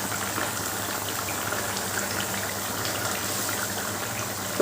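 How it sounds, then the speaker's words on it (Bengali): Curry broth with potatoes and fried cabbage pieces bubbles at a steady boil, a continuous close gurgling simmer without talk. "ঝোলটা ফুটে উঠেছে আর আমি আলুগুলো দেখলাম আলুগুলো নরম হয়ে গেছে"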